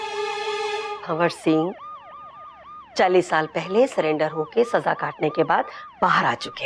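A wailing police siren rises and falls loudly, starting alone before a voice talks over it as the siren keeps cycling underneath.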